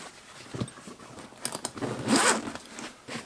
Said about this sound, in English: Zip the top off.